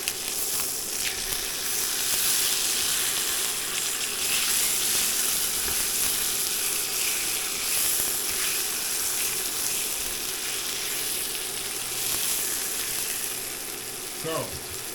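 Boston butt steak frying in a pan, a steady dense sizzle running evenly throughout at close range, with a brief scrape or stir near the end and no talking.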